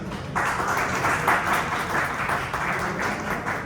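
An audience at an Urdu poetry gathering (mushaira) in Calgary breaks into applause after a recitation, a steady wash of many hands clapping for a few seconds.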